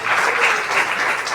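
A church congregation claps together in steady, dense applause that stays even and fairly loud without a break.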